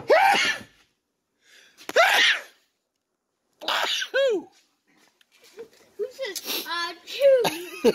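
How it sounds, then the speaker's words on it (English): A man sneezes sharply a couple of times in a workshop while installing an electric motor in a 2002 Gem Car E825, with short gasps between and people talking afterward. "I just sneezed"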